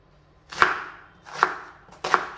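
A knife scores chicken pieces for a Kerala chicken curry, making three separate sharp strikes on a board, each followed by a short fading scrape, close and clear with no talk.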